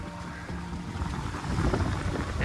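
A sailboat surfs down waves in strong morning wind off Hastings, with loud gusting wind and rushing water close by, growing slightly stronger, with no voices.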